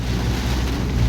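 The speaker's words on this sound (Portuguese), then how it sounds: "Não sei como é que vai ficar o áudio aí por causa do barulho da chuva" Heavy rain pours steadily and loudly, a constant dense hiss and patter with no voices.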